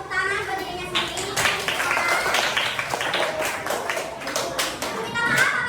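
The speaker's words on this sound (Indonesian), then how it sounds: "bisa tepuk tangan buat dirinya sendiri." Students in a classroom applaud in a lively burst of uneven claps that is loud and close, mixed with children's voices and a teacher talking.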